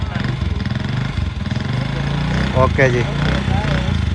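A motorcycle engine runs steadily at idle as riders settle onto the bike, a low continuous rumble beneath people talking nearby.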